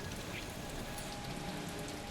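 Steady rain falls in the Marvel Guardians of the Galaxy video game, a soft, even, continuous hiss of drops on surfaces with no break and no voices.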